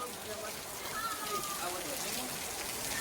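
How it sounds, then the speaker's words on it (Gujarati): Heavy rain pours down in a steady, dense hiss that fills the whole stretch with constant broadband noise. "એવો વરસાદ આવેલો છે"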